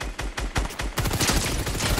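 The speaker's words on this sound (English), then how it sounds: "somebody else shooting me" Gunfire in the Fortnite video game: a few sharp, separate shots, then a dense, rapid burst of automatic fire that keeps going to the end. Close and loud, with no talking.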